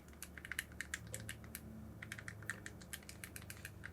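The small buttons of a Miyoo Mini handheld are pressed in quick, irregular series of sharp, quiet clicks at close range, with a brief pause in the middle.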